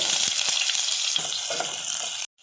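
Large chunks of onion hitting two spoons of hot oil for kabul kurma give a bright, close, continuous sizzle with faint knocks, then cut off abruptly near the end.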